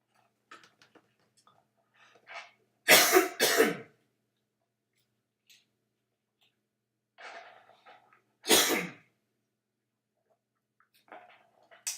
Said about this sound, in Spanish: Perdón ahí que me agarró tos.